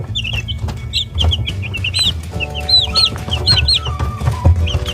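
Young Silkie chicks, about three weeks old, chirping and clucking in a run of repeated high peeps over a low background hum, close and fairly loud, with occasional faint pecking sounds.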